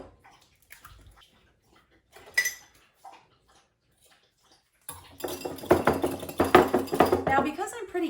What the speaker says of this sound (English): let's start by beating 1 egg